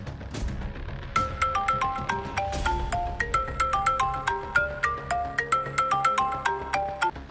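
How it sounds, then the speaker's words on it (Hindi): A mobile phone ringtone plays loudly and steadily with a bright, repeating melodic tune of quick notes, ringing continuously for several seconds with no talking over it. "अगर मोबाइल यहीं होगा तो अभी बजेगा।"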